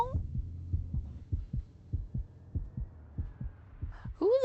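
Heartbeat sound effect in the video game Steel Aces, with a steady series of low, thumping double beats repeating roughly every third of a second, close and prominent, before a brief higher-pitched game sound at the end.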